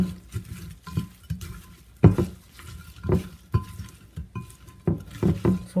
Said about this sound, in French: Et nous allons mélanger.